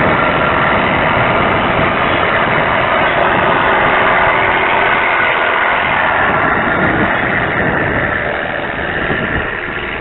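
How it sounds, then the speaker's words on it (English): A V4 engine idles loud and close, a steady low rumble and drone that holds for the full stretch with no change in pace. "Keep the motor running."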